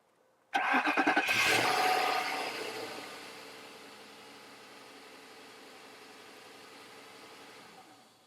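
A 2002 Ford Thunderbird roadster cranks with a short burst of starter whirring, catches loudly, then settles into a quiet, smooth, even idle that holds steady to the end.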